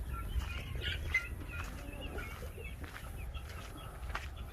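Sussex hen chicks in their coop give soft, high chirps and peeps, with a few wing flutters over a low background rumble, faint and intermittent.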